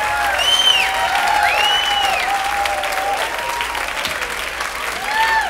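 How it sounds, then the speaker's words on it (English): A comedy club crowd gives a comedian a round of applause, thick continuous clapping with voices talking over it, holding steady for several seconds. "Big hand for Cliff."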